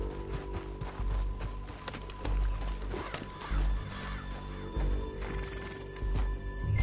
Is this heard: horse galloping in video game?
yes